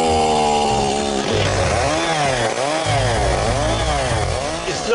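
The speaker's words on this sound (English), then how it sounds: "I think 10 past 4 is chainsaw o'clock." Chainsaw cutting through solid oak, loud and close, the engine pitch dipping and rising repeatedly as the chain bites into the wood and frees up, continuous throughout with no speech.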